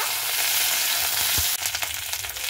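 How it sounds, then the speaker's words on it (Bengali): Green beans sizzle steadily in a pan as a utensil stirs them, with a scraping burst of stirring midway; the frying is close and moderately loud, with no speech. "আমি ঢাকনাটাকে উঠিয়ে নিয়েছি, দিয়ে খুব ভালো মতো করে একটু নাড়াচাড়া করে নেব।"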